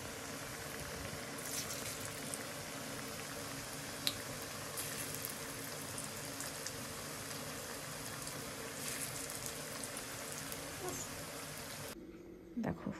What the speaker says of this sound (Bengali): আর এই যে তো পুরোটা ভেজে তোমাদেরকে দেখাচ্ছি।